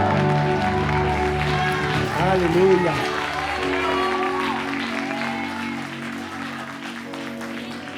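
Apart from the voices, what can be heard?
congregation applause in church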